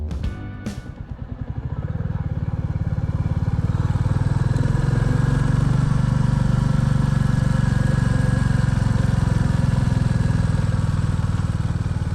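A Royal Enfield motorcycle engine starts with a couple of sharp bursts, then settles into a loud, steady rumble as it rides along close by.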